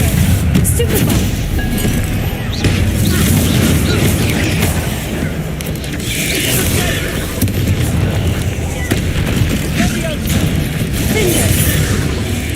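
Repeated booming blasts of the Confringo fire spell in the Hogwarts Legacy video game, loud and close, layered over constant combat noise with scattered voices throughout.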